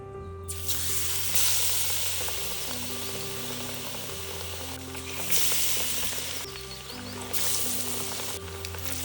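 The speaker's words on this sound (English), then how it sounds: "Dip the sliced potato and add it to hot oil for frying" Steady sizzling of potato slices frying in hot oil, with bright bursts of crackle as more pieces drop in, over a low background hum.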